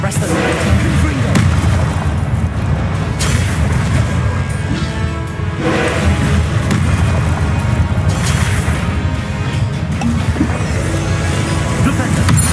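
Confringo fire spell in the Hogwarts Legacy video game bursting in loud booming blasts, several heavy explosive thuds over a dense rumbling combat bed with scattered crashes.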